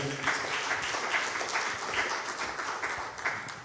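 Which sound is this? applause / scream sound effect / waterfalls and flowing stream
applause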